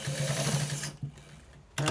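A sewing machine stitches white trousers in a brief, steady mechanical buzz that stops for a moment, gives a short restart, pauses again, then starts back up.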